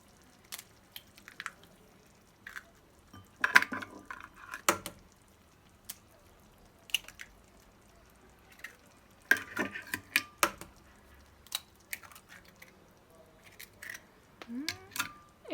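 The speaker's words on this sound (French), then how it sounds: "Alors maintenant, on va y ajouter nos 3 œufs." Three eggs are cracked into a simmering kefta tajine, quiet shell taps and crunches, soft drips and utensil clinks scattered over low background, no speech.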